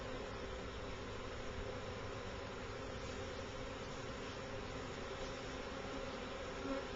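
Bees buzz in a soft, continuous drone around a barn, an even, faint hum with no pauses and no voices.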